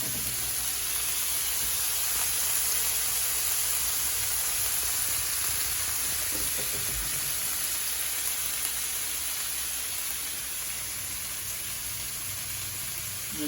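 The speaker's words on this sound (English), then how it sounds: "And let that simmer for a minute or two." Pork simmering in a pan for egg roll in a bowl, a soft, steady sizzle and hiss that carries on evenly, low and close with no talking.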